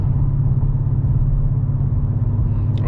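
A car engine holds steady in fourth gear at about 2000 RPM, giving a loud, even, low rumble that stays constant throughout.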